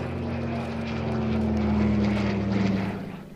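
Yak-11 training aircraft with its propeller engine running at an air show, a steady droning hum with a faint whine, held at even loudness and tapering off at the end.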